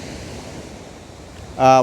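Sea waves wash steadily onto Valiyaparamba beach as a continuous broadband surf roar, with a voice briefly breaking in at the very end.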